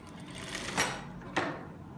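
A sewing machine runs two short bursts of stitching along the front crotch seam of elastic-waist trousers with pockets, each burst brief and close, separated by a pause and quiet room tone.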